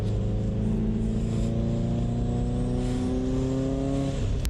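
A turbocharged car engine revs up steadily from inside the cabin on a cold 46-degree day, its pitch climbing smoothly as it accelerates, loud and continuous with no talking.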